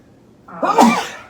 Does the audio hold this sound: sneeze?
yes